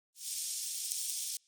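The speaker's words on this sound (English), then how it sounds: "try to emphasize the sizzling sounds." A bright, hissing sizzle that starts abruptly, holds steady for over a second, then cuts off sharply.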